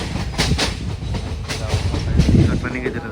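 A train passes at Gudur junction, a close, steady rail rumble with faint rhythmic clicks from the wheels running through the whole short stretch.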